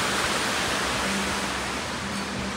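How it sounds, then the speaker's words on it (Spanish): An artificial waterfall fountain inside South Coast Plaza shopping mall in Costa Mesa, California, gives off a continuous broadband rush of falling water, steady and fairly loud, with no speech. "Esto es como una cascada, pero no es cascada."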